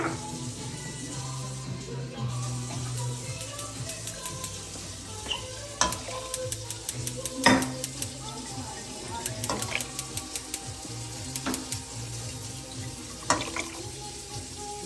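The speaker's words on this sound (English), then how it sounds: "rinse out the bottles with a little bit of water, just to add a little bit to it" Water runs into sauce bottles as they are rinsed over Italian Sunday sauce simmering on the stove, with a steady sizzle and wash of liquid punctuated by sharp clinks and scrapes of stirring.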